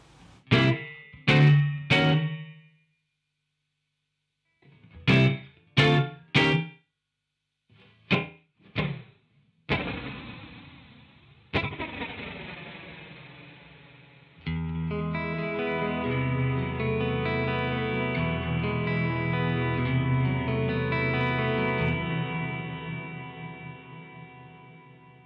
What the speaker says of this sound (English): Kind of a long sort of delay reverb-y kind of thing.